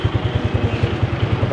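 A Yamaha FZ16 motorcycle fitted with a Rusi Mojo 200 muffler idles nearby, a steady, evenly pulsing low exhaust throb.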